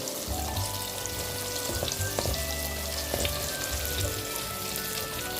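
Brinjal pieces frying in oil in a pan, a soft, steady crackling sizzle with occasional pops and low rumbling beneath, fairly quiet and without talk.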